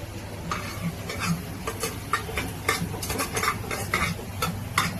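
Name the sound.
mutton added to a pan and stirred with masala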